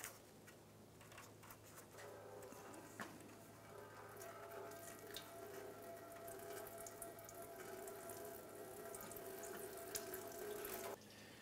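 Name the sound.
coolant draining from Chevrolet Impala radiator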